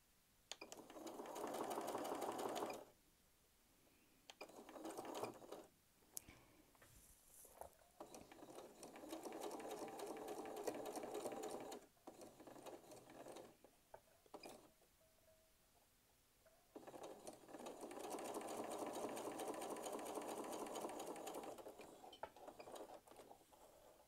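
A sewing machine runs in long steady bursts while stitching a quilt block seam, whirring loudly for several seconds at a time with short pauses between runs and light mechanical clicks.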